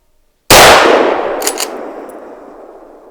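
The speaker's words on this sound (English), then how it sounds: "we just shot a boar" A single loud, close gunshot rings out during a driven boar hunt, a sharp crack after near silence that decays into a long rolling echo through the surroundings.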